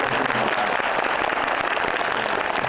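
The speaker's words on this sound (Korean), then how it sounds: "우리 유경수 배우님께 박수" Cinema audience at a film screening Q&A gives an actor a dense, continuous round of clapping, close and steady for the whole stretch with no voices standing out.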